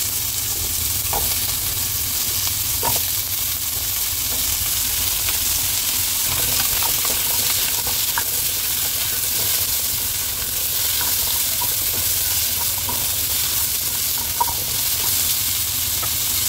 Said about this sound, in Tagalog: Ilalagay din natin ang ating carrots. Bali, pa-fry lang natin ang bahagya.